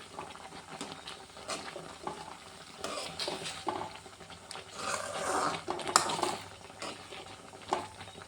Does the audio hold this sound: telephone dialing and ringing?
no